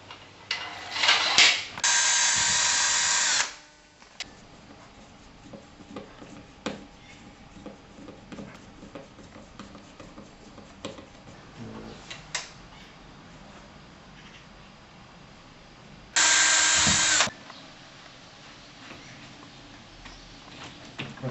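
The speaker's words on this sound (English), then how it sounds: "just drill a hole, secure with a screw there to stop the cassette from moving around." A power drill bores a hole in a screen cassette in two loud bursts, one long near the start and another short one later, with quiet clicks and handling noises between them.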